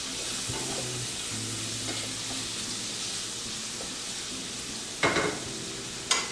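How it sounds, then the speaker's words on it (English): Minced beef frying and being stirred in a pan, a soft steady sizzle with faint scraping under it and two sharper utensil knocks near the end. "So the same way you cook ground beef, you kind of keep moving it around."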